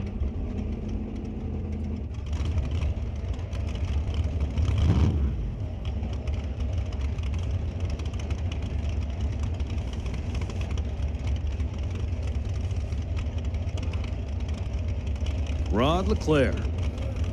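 A 598-cubic-inch nitrous drag race car idles at a drag strip, a steady loud low engine rumble running throughout beneath an announcer's talk, with a brief rising whine near the end.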